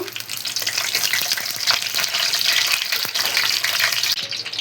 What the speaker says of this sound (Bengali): শুকনা মরিচটা একটু হালকা ভাজা নিব